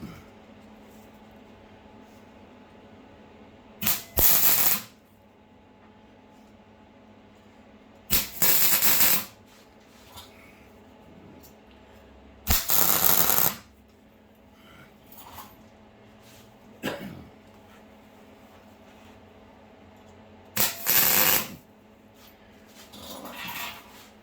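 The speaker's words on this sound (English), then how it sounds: "I'm going to tack these pieces into place. Then I'm going to weld them up" Tack welding steel pieces of an English wheel stand in a workshop, four short crackling buzzes of roughly one second each, spaced several seconds apart over a quiet room hum.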